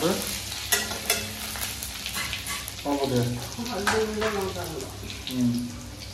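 Cumin seeds crackling and popping in hot oil as a spiced fish dish with coconut is started, a close, steady sizzle with sharp pops and faint talking.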